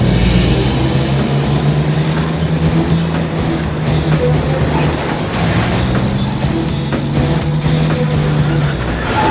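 A heavy Outback truck's engine labours loudly and continuously as it strains through a deep bog hole, with a steady low droning roar and grinding texture close by.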